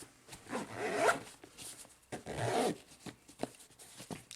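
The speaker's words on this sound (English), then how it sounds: "Get the other zipper here." A zipper on a small, light range bag pulled closed in a few separate bursts, each a close, raspy scrape with short pauses and soft handling noises between, no talk.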